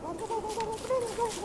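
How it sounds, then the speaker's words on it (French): A turkey in the game Don't Starve gobbling in a continuous warbling, wavering run of calls, fairly loud and close. "Oh, un dindon!"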